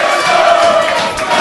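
Loud crowd noise at a Night of the Gladiators fight event, a dense, steady roar of cheering and shouting that fills the space for the whole moment, close and unbroken.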